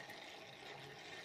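Warm engine oil pours steadily from the drain of a first-generation Renault Twingo during a home oil change, making a continuous soft splashing, trickling flow close by.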